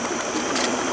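Water being boiled outdoors on a camping stove, a steady close roaring hiss that runs unbroken for the whole moment.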